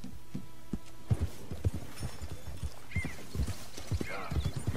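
Horse hooves clip-clopping steadily behind a walking rider in Red Dead Redemption 2, a regular rhythm of close, distinct hoof strikes over a soft outdoor ambience, with a brief whinny-like sound near the end.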